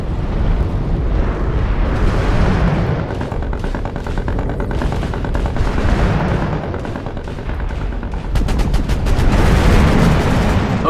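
Missiles launch and detonate in MechWarrior Online, piloted in a Mauler 2P(S) mech: a dense, continuous roar of firing and explosions with repeated rapid bursts, loud and sustained throughout, growing heavier near the end.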